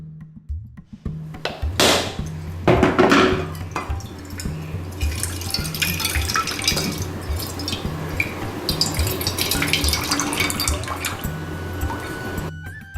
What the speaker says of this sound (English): Keep rotating and continue to hit on the lines until the shell cracks.